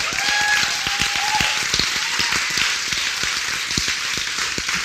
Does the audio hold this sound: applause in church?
yes